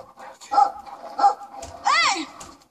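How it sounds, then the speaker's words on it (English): A vicious dog in a video game barks and yelps in short, sharp bursts, three distinct outbursts with a rising whine in the last, up close with a voice reacting nearby. "That's a vicious dog."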